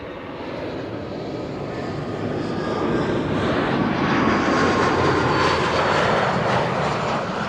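A KLM airliner arrives at Amsterdam Schiphol from Brussels, its jet engine roar building from moderate to loud and holding steady as it passes close by, with no talking.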